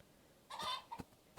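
Chicken in the video game Minecraft Bedrock, played with a realism add-on, giving a short cluck followed by two soft clucks, alone and fairly quiet.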